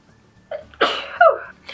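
A single close, sharp human sneeze with a short breathy intake before it, loud and sudden against a quiet background.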